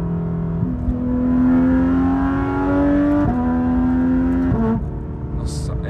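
A loud car engine revving hard during a ride, climbing through gear after gear with sharp shifts, droning close and steady with a little wind noise.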